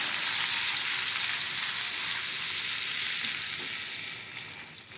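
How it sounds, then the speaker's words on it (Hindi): Ginger and curry leaves frying in a pan for a sour whole masoor dal, giving a dense, loud, steady sizzle close up that fades slightly toward the end, with no talk. "अब हम इसमें शामिल करेंगे अदरक और कड़ी पत्ता। इसे भी हल्का सा फ्राई करेंगे।"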